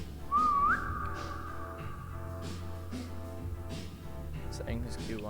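A single whistle rises and then holds steady in an IKEA-themed video game, over quiet in-game background sounds while a person talks throughout.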